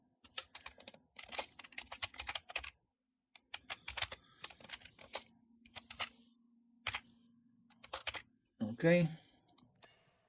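Quick bursts of clicking keystrokes on a computer keyboard enter a game code, coming in rapid clusters separated by short pauses, followed by a brief louder tone near the end.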